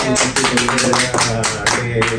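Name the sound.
audience clapping at a talk show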